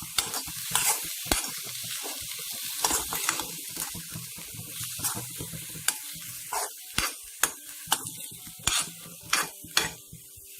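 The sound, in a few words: stirring banana flower thoran with coconut in pan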